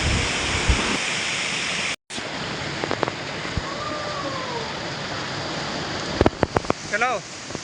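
Steady broadband roar of Chaulabhaja waterfall in Odisha, loud and continuous throughout, with a brief dropout, scattered clicks, and bird chirps near the end.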